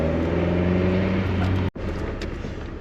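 A Lotus sports car engine, either an Emira or a Europa, drones steadily with strong low harmonic tones while driving. A brief dropout near the end interrupts the sound, and then the noise continues as broadband road and engine sound.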